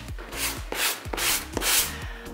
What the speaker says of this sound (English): But this sponge is a sanding sponge.